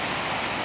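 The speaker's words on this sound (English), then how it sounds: "you can see there's a waterfall down there" Waterfall along the Blue Lake Trail pours in a steady, broad hiss of falling water, constant and fairly loud.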